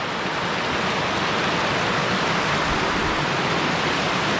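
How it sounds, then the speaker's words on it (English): Water in a remote mountain creek rushes steadily in a broad, continuous hiss, close and fairly loud, with no voices over it. "What an absolutely beautiful creek."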